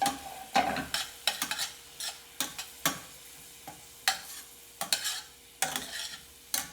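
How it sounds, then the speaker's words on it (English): Recipe ingredients get mixed with quick, repeated stirring strokes, a rapid run of scrapes and taps against a bowl, close and fairly loud, with a low steady hum underneath. "Mix to combine"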